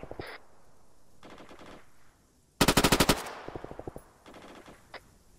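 Bursts of automatic gunfire in a WWII video game, with a loud close rattling volley in the middle and fainter, more distant bursts before and after.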